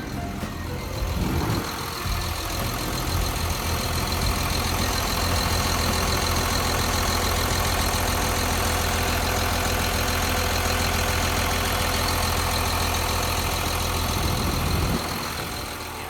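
A Caterpillar 962H wheel loader's C7.2 six-cylinder turbo diesel idles close by, a steady heavy rumble with a constant hum that holds evenly from start to end.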